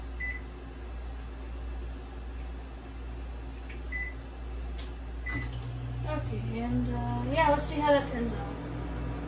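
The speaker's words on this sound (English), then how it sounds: "microwave it for 40 seconds?" A microwave oven runs with a steady low hum in a home kitchen, a few soft beeps early on, then a rising whine and rattling clatter near the end as a person speaks.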